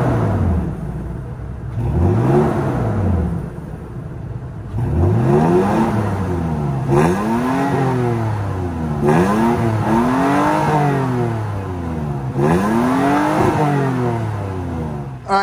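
A 2022 Toyota Tacoma SR5 with its 3.5-liter V6 engine revs repeatedly, close and loud, each sweep rising sharply and falling back to idle in a regular series of about six pulls.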